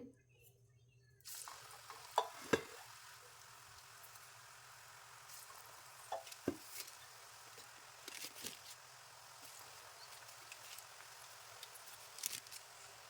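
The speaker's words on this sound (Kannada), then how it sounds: "ಈಗ ಎಣ್ಣೆ ಕಾದಿದೆ ಚಕ್ಲಿ ಹಾಕ್ತೇನೆ" Chakli dough fries in hot oil with a soft, continuous bubbling sizzle that stays faint. A few sharper clicks and clatters from the pan come through over the quiet fizz.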